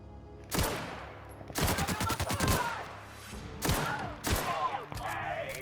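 Bursts of gunfire from The Outer Worlds on PS5, several loud volleys of rapid shots with short gaps between them, a voice speaking faintly underneath.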